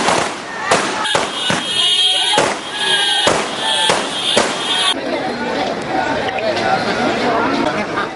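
Firecrackers crackle in sharp repeated bursts during a street victory celebration in Ampara after an election win, loud and close, with crowd chatter beneath.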